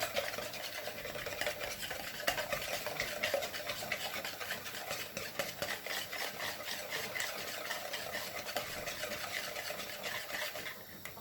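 Eggs being whisked in a bowl for carbonara, a fast, steady rhythmic scratching and tapping of a whisk that continues for several seconds, quiet and close with no talking.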